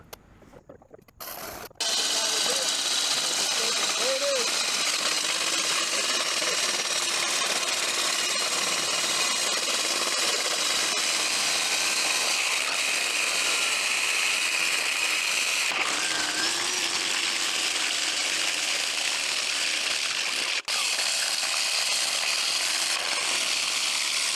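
A loud, continuous power drill whine and grinding runs for a long stretch after a short quiet start, with brief dips partway through, drilling for PVC drainage pipe.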